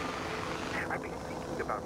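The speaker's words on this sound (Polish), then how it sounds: "Dobrze, że wzięliśmy ten helikopter." Steady rotor drone of a helicopter in the video game Far Cry 4 fills the clip, with a voice talking over it.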